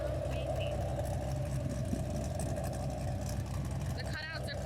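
A fifth-generation Chevrolet Camaro SS V8 idles with its exhaust cutouts closed, a steady low rumbling drone that holds even throughout, with faint background noise over it.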